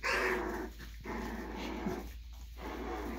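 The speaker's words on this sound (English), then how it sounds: "Those are normal puppy noises at this stage." Three-week-old puppies making small growls and whimpering noises nearby, a steady soft stream of vocal grumbles and yips with no talk.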